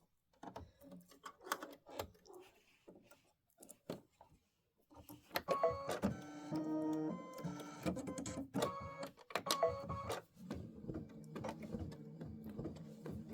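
An Aveneer embroidery machine stitches a tile design, starting with sparse, quiet needle taps, then breaking into a fast, continuous mechanical whirring chatter with tonal motor hum, fairly close and with no talking.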